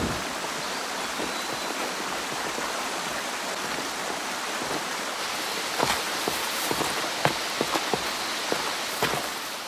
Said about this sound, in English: a small tributary of the Ussuri River rushes over volcanic rocks